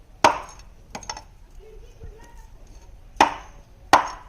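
Whole surmai (kingfish) being chopped with a koyta blade at an Alibag fish market, four sharp, separate thwacks of the blade striking through fish onto a board, irregularly spaced with quiet gaps between them.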